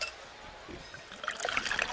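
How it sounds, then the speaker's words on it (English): Pepsi Zero Sugar cola is poured in a steady liquid stream, with a trickling, fizzing sound that grows brighter and bubblier toward the end, close and fairly quiet. "Listen to that endless pour."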